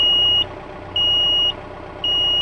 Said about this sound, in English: we have to make sure we push this engage button, and then it's giving us warning